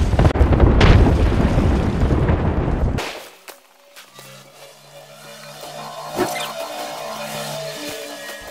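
A frag grenade in Apex Legends bursts with a loud, roaring blast that fills the first three seconds, then cuts off into quieter game tones and scattered sharp hits.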